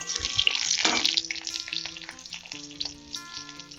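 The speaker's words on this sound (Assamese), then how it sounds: "পিঁয়াজখিনি ৰঙচুৱা হ'ব দিছোঁ" Onions frying in a pan until browned, a bright continuous sizzle swelling early then settling, with stirring clatter and some faint tonal ringing underneath.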